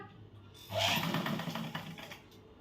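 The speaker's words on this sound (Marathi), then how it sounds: "आता आपल्याला ह्याच रेषेवरती टीप मारायची आहे" A sewing machine stitching a katori blouse, a quiet run of rapid even stitching that starts partway in and fades toward the end, with no talk over it.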